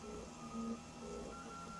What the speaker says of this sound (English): It's about to start printing the back edge